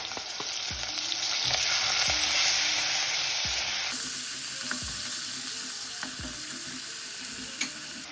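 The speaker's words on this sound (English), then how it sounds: "add the coriander, the turmeric, all the green chilies and the ginger garlic chili paste, and give that a little bit of a stir" Coriander, turmeric, green chilies and ginger garlic chili paste fry in a bean curry pan with a loud, steady sizzle. A spoon knocks and scrapes in repeated close strokes, and the hiss eases about midway. No one talks.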